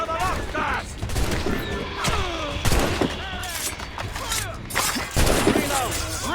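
Musket volleys crack out repeatedly in a tense naval battle from Assassin's Creed Rogue, sharp irregular gunfire bursts and booms layered over shouted orders and crowd noise throughout.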